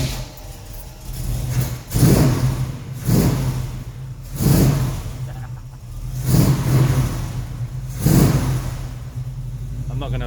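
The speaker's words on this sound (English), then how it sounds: "obviously the engine's just started up, but it sounds cool" A V8 car engine just started up revs in repeated bursts, about five rising roars spaced a couple of seconds apart over a steady idle, with a voice talking in between.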